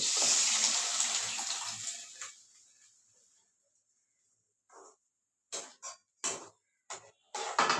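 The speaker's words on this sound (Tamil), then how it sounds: "வெங்காயம் வதங்கிடுச்சு இனி ரத்தத்தை இந்த ரத்தத்தை ஊற்றி விடணும்" Goat blood poured into a pan of fried onions, a loud close liquid gush and sizzle that fades out over a few seconds, followed by silence and a few short scrapes or clatters.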